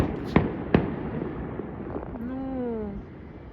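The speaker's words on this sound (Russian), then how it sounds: "Мы тут едим, а там салют, вы гляньте." Fireworks go off outdoors during a mountain trip, heard from indoors: two sharp, fairly distant bangs in quick succession, then a rising whistling tone after a short pause against a faint background hum.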